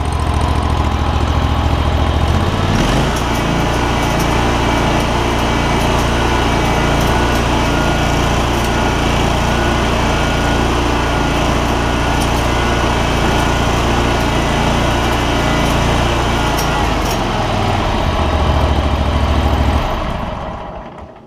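A Kohler CV742 25-horsepower V-twin engine on a John Deere ZTrak zero-turn mower, which had sat unused for two years, starts up, runs at a loud, steady pace for about seventeen seconds, then shuts off.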